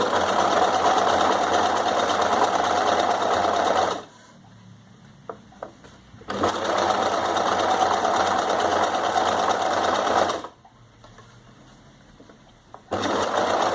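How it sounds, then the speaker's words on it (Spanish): A sewing machine runs a short-stitch, long zigzag across fabric being gently lifted and folded for a costume cape, its steady whirring bursts lasting several seconds each, twice broken by quiet pauses with faint handling clicks. "Pongo la puntada bien cortita y un zigzag largo y voy levantando la tela muy poquito para que se vaya doblando a medida que voy cosiendo."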